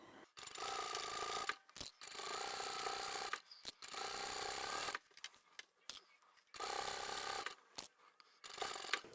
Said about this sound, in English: you want to sew really close to the outside edge as well